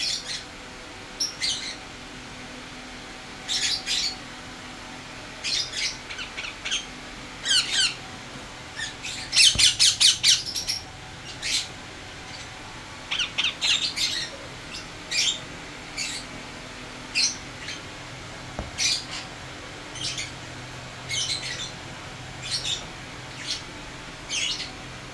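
Pet birds at a bird shop squawk and chirp in repeated short, sharp bursts that come and go against a quiet background, with one louder flurry partway through.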